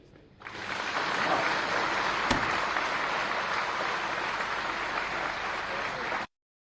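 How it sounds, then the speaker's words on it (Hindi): A large crowd claps at an Indian Navy gathering aboard INS Vikrant. The applause is dense, loud and steady, rises quickly, holds for about six seconds, then cuts off abruptly. "एक बार जोर से तालियां बजाइए"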